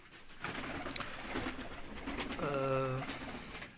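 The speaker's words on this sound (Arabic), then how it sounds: "تبدأ بقى تجيب الحمام، وهو انك تبدأ بحمام بلدي." Local domestic pigeons coo in a soft, rolling call kept in a home loft, faint under steady background noise, with one clear throaty coo standing out near the end.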